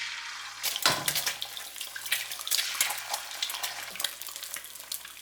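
Two eggs fry in hot cooking oil in a heated pan, giving a steady close sizzle and crackle with brief stirring scrapes and a short watery splash near the start, with no talking.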